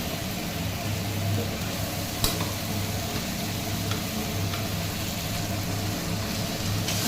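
Ginger, garlic and green chili paste sautéing with onion in a pan for a jackfruit and prawn curry, giving a steady low sizzle with faint scraping ticks and one sharp clink, no talk.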